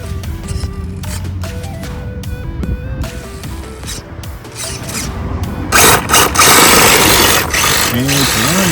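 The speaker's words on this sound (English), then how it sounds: "Alright, the car is on." A small toy car's motor runs after being switched on, a steady mechanical whir with clicking, growing louder and denser toward the end.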